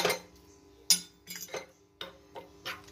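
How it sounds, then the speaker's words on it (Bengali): A spoon clinks against a small bowl while ginger-chili paste is stirred by hand. The bursts come in short, separate runs of scraping and tapping, heard close up with no talk. "এটা আমি ভালো করে একটু নাড়াচাড়া করে নেব"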